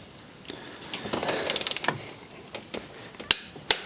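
Bolts on a Corvette C5 cylinder head being torqued down with a wrench, giving a series of sharp ratcheting clicks and metallic snaps, close and fairly quiet, with a few louder cracks near the end.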